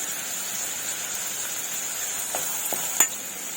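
Curry leaves sizzling as they drop into chopped onions frying in hot oil, a steady close crackling hiss with a few small pops and a sharp spatter near the end.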